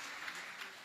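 Applause from an audience at a Hindi comedy poetry gathering, a steady wash of many hands clapping, moderately loud and continuous through the brief moment with no one speaking.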